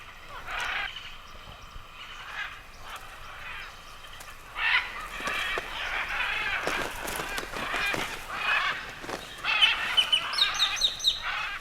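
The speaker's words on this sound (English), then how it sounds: "Macaws are argumentative birds, and the best spots are keenly fought over." Macaws squabbling at a rainforest clay lick, harsh squawks and shrill calls overlapping in bursts, several birds at once, growing busier and louder toward the end.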